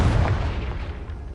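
A Confringo fire spell in Hogwarts Legacy on PS4 hits with a single close, heavy booming blast that quickly fades into a low rumbling tail.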